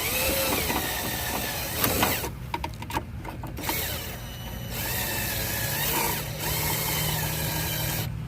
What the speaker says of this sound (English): I connect it to a drill and put a swivel, so it goes a lot easier